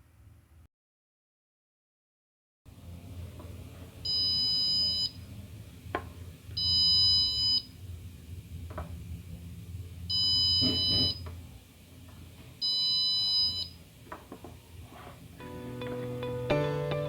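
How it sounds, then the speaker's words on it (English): An Arduino buzzer driven by a tilted accelerometer sensor module sounds four short, loud electronic beeps at regular intervals over a quiet background, followed by a faster burst of tones at the end. "you will be able to hear the buzzer buzz"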